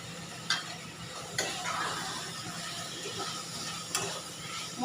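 Boiled colocasia is stir-fried in a pan, a low steady sizzle broken by a few sharp spatula knocks and scrapes against the metal.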